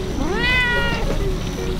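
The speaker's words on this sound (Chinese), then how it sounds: "猫咪。" A cat gives one drawn-out, rising-then-falling meow, close and clear over a low background hum, at a tea-growing area in Alishan, Taiwan.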